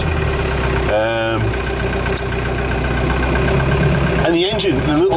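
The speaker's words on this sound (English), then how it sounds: "4-cylinder Perkins, what a good little engine." Ford Thames van with a small Perkins four-cylinder engine idling steadily, a constant close low rumble running throughout, with someone talking over it.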